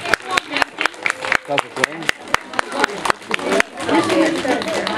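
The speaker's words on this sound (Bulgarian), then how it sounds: "Аплодисменти." Audience applause at a Miss and Mister Ecology pageant on a children's day event, rhythmic clapping bursts with crowd chatter and voices underneath, growing into a denser wash near the end.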